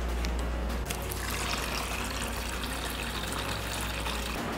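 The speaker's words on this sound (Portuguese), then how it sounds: "Agora vamos encher nossa água," A two-litre water bottle being filled, a steady trickling and splashing stream of water running continuously at close range with no talking.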